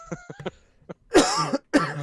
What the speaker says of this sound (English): I tried to mute the mic before that cough